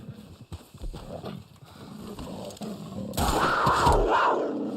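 Horse sounds in Red Dead Online with soft hoof clops and snorting, then a louder burst of rough, roaring noise near the end; no one speaks.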